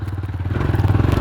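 A dirt bike engine labors through deep sand on a dirt track, a close, rough pulsing drone with rapid rhythmic throbs that swell slightly louder toward the end.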